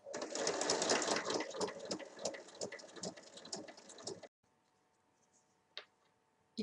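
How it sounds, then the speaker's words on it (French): A sewing machine topstitches along a zipper on a reversible pouch, a fast steady stitching whir running loud and close for about four seconds before cutting off to near silence with a couple of faint clicks. "je fais une surpiqûre tout le long de la fermeture à glissière"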